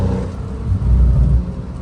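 A tuned Porsche 911 Carrera T 992 on the road, its engine and exhaust giving a loud, deep, continuous rumble that swells briefly as it pulls, with no voices over it.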